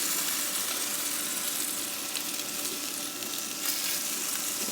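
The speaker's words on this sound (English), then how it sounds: "Let me cook this fucking meat before it burns." Carne asada sizzles on a Ninja Foodi indoor grill with a loud, steady, close crackling hiss that goes on without a break.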